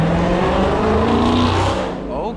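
A Dodge Charger SRT Hellcat and a Hellcat Durango accelerate hard in traffic. The engines make a loud, close, rising roar that swells and then eases off with a shift in pitch near the end.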